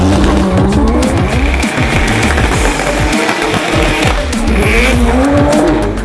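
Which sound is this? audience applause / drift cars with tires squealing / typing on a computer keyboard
drift cars with tires squealing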